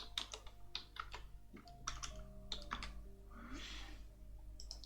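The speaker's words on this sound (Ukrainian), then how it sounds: "нам достатньо просто клацнути у цьому текстовому полі і написати потрібний текст" Rapid, close keystrokes on a computer keyboard as text goes into a Google Slides text box, uneven in rhythm, with a faint hum underneath.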